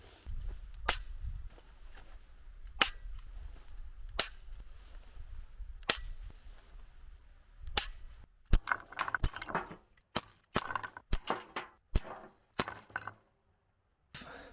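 A Marksman 1015 air pistol plinks BBs, with sharp, isolated cracks spaced a couple of seconds apart at first, then quicker repeated shots mixed with metallic clinks and impacts near the end.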